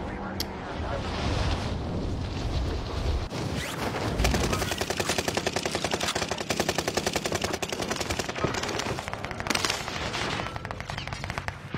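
Video game gunfire: dense rapid bursts of automatic shots rattling continuously after an initial muffled stretch, loud and close, with a few sharper single cracks mixed in.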